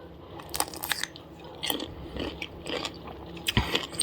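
Crisp crunching bites into a lightly salted homemade pickle, several sharp crunches with chewing in between, close up and loud with no talking.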